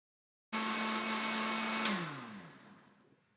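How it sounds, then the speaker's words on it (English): A kitchen blender spins up with a sharp start, whirring steadily at high pitch while blending a green chocolate peanut butter protein shake, then its motor tone drops and the sound fades out as it winds down. "I'll put all my powders in as it's blending here at the beginning"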